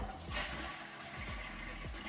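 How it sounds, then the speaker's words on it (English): A Japanese toilet with a built-in sink on top flushes in a small apartment, a steady loud rush of running water with faint gurgles and thumps, close and continuous with no speech. "the toilet itself is integrated with the sink. So anytime you flush,"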